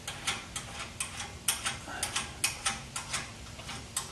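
A ratchet tightens the top nut on an exhaust hanger bolt while mounting fabricated Pypes exhaust hangers on a 1976 Corvette restomod. Its close, steady run of rapid metallic clicks comes in rhythmic bursts, stroke after stroke.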